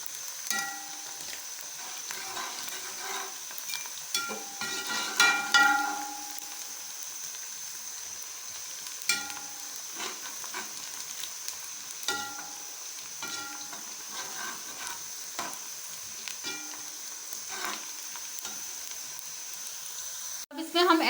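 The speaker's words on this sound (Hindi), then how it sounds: "हल्का सा प्याज हमारा जब सुनहरा होने लगे तो हम इसमें ऐड करेंगे साबुत गरम मसाला।" Onions frying in a pan with whole garam masala for matar pulao: a continuous close sizzle with stirring scrapes and clatters throughout, a steady high hiss underneath, and a sharp clank near the end.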